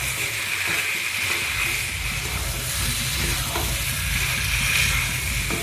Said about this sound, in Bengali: নুন দিয়ে এইভাবে নেড়ে আমি একটু ঢাকা দিয়ে দেবো।